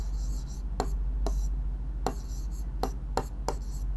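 Pen strokes of someone handwriting a Sanskrit answer during a class 8 lesson, soft scratchy writing sounds broken by several sharp taps and strokes, close and fairly clear over a low steady hum.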